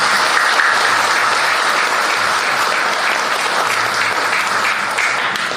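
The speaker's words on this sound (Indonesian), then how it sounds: "Tepuk tangan." Audience applause fills a religious gathering, loud, dense and continuous clapping from a large crowd that holds steady throughout and eases slightly at the end.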